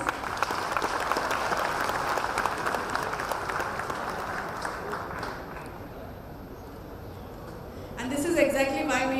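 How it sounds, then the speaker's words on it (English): An audience at an HR conclave at an institute claps in a sustained, dense round of applause that gradually thins and fades, followed at the end by a voice starting to speak over a quieter room. "Let's give them a big round of applause."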